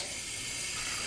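Tap water runs steadily into a bowl holding ice and cold water for soaking onion rings, a loud continuous rushing splash close by with no talk.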